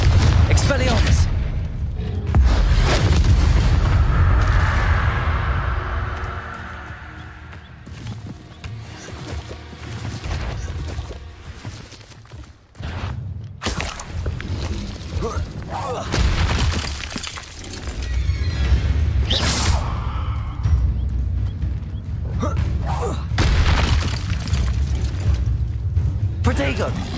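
Spell effects such as Confringo fire off in Hogwarts Legacy with loud crackling blasts, shattering bursts and booming impacts, repeating densely across a busy battle mix while a voice speaks over much of it.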